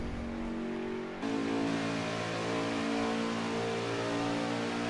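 A race car engine in a racing video game, at Auto Club in a league qualifying session, revs up from a lower drone to a loud, sustained high-pitched buzzing whine that holds steady to the end.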